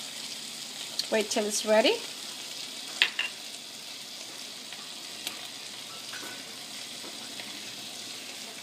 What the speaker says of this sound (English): Add your oil to your pan.